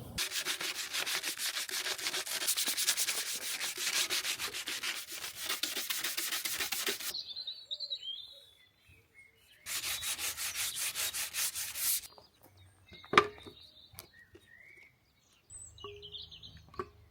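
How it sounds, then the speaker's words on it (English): Parts from a Harley Davidson Sportster 1200 restoration are sanded by hand, long stretches of rhythmic scratchy rubbing that stop and restart, with quiet pauses, a sharp knock and faint bird calls in the background. "Time to break out the sanding by hand method for a bit of fine art."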